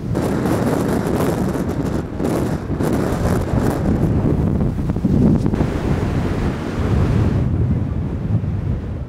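Gale-force coastal wind in Zeeland roars continuously into the microphone, a loud buffeting rush layered with crashing surf, with no talking.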